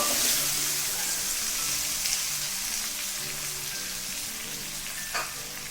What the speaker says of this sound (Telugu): వీటిని కొంచెం దోరగా వేగనిద్దాము